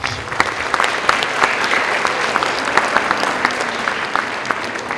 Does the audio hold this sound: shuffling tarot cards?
no